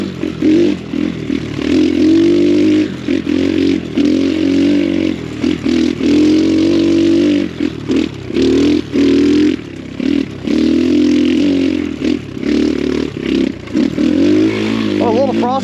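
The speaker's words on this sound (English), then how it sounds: "You know, it's a little bike, so you gotta get in the upper RPMs to really lock into that power." X Pro Storm 150 DLX dual sport motorcycle pulling hard at high RPM along a mucky trail. The small engine drones loud and close, holding steady with brief dips as the throttle shifts.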